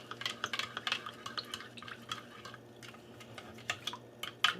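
A spoon clinks and scrapes in a cup, stirring a sugar and cornstarch mixture for a Mongolian beef sauce, with quiet, irregular taps and swirls close by and no talking.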